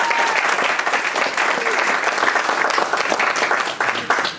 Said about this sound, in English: And one more round of applause for all of the participants.